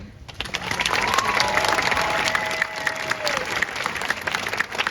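Graduation audience at a prep school commencement applauds after the valedictorian's speech, with a full, steady round of clapping from a large crowd that swells early and holds at moderate loudness throughout.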